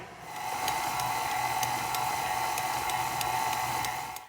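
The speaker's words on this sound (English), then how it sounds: "Now I'm going to allow my dough to mix in my mixer for about 5 minutes." A stand mixer kneads bread dough with a dough hook, producing a steady close motor whir with a faint regular ticking as the hook turns, starting and stopping cleanly, with no talk.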